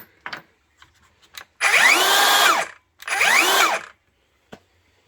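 A 7 1/4-inch rear-handle circular saw without a blade spins up twice, each burst lasting about a second with a whining rise and fall, separated by quiet clicks and handling noises.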